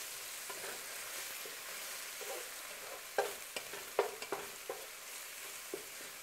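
Garlic and brown sugar for Greek stuffed eggplant are stirred in a pan over a soft, steady sizzle, with a few spoon scrapes and taps that grow busier toward the middle.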